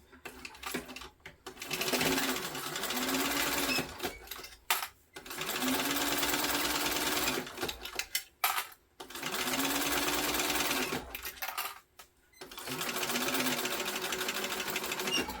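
A sewing machine stitches backpack fabric pieces together in several steady runs of a few seconds each, with short pauses between bursts, close and loud with no talking.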